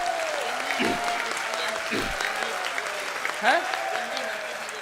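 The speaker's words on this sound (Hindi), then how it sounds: "समर्थन में एक बार जोरदार ताली बजा दो।" Audience applause at a public speech, broad clapping under a speaker's voice, with spoken words rising over it at moments.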